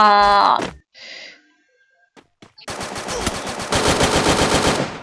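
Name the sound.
gunfire in a video game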